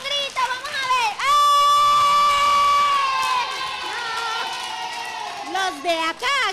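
A group of children in Isabela shouts and cheers together in a sustained, loud burst lasting a few seconds, with an adult voice speaking before and after.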